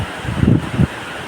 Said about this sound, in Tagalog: Grabe hangin to.